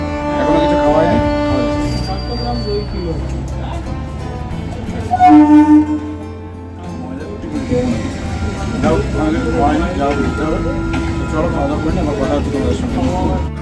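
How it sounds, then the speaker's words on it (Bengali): A passenger train in West Bengal pulling away from Uluberia station, heard from inside as a steady rumbling ride, with a brief louder tonal burst midway, under constant chatter and voices in the carriage. "উলুবেড়িয়া থেকে ট্রেনটি আবার ছেড়ে দিল কিছুক্ষণ দাঁড়িয়ে থাকার পরে"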